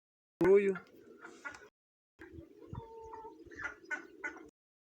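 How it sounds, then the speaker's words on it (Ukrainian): Soft, low pigeon cooing in a few short bursts with pauses between, close by and fairly quiet. "Права голуб, зліва голубка."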